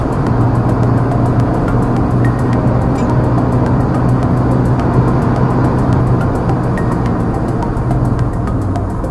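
A Ford Figo 1.5 TDCi diesel engine droning loudly and steadily at full throttle on a highway, a constant low rumble with road noise and no speech.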